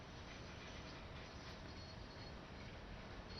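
A Class 66 diesel freight train runs in Train Sim World 3, a diverted service bound for Redhill, giving a steady dense rumble and rush of rolling wagons that holds unbroken and fairly loud throughout.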